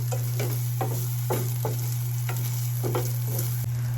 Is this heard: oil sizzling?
yes